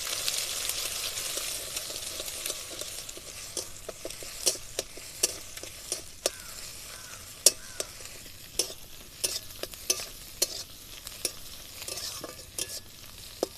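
Maggi noodles with egg and onion fry softly in a pan while a spoon stirs them, a quiet sizzle under a long series of sharp clinking scrapes against the pan, evenly spaced and close.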